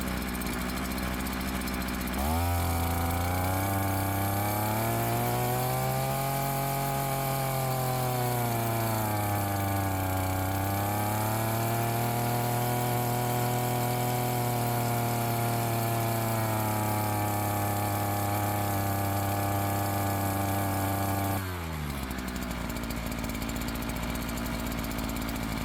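A two-stroke engine revs steadily after a carburettor adjustment for poor idle. A loud, sustained buzzing whine rises and falls in pitch for about twenty seconds, then drops back to idle, with no voices.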